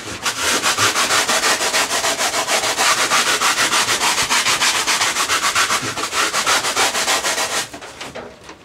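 Coarse 40-grit sandpaper worked by hand in steady rapid back-and-forth strokes on a model airliner build, loud and close throughout, easing off in the final second.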